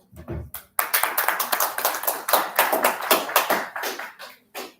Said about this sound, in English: We need to applaud ourselves.